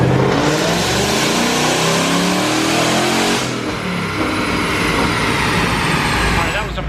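Supercharged 2016 Mustang GT engine revving hard on a dyno in a partial pull to about 5,000 RPM, a loud sustained roar that climbs and then eases off near the end, with no talk over it.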